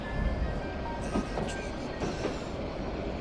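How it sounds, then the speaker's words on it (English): A train rolls along rails as an effect in an audio drama, giving a steady rumble with faint clicks and a thin, high squeal from the wheels. There is no talk. "Pay no mind to our train's backwards motion, dear traveler."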